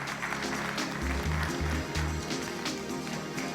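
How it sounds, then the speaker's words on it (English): Applause from an awards ceremony audience in a hall, sustained and steady through the moment, mixed with low music tones and faint background voices. "Keep the applause coming as he comes up all the way from the back of the hall."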